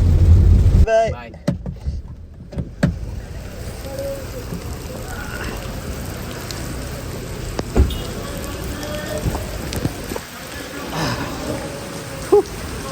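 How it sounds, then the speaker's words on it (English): Steady rain patters on surfaces in Malaysia, with a few sharp cracks and rumbles of thunder rising above it. "it is raining. Wow! Big crackles of thunder there."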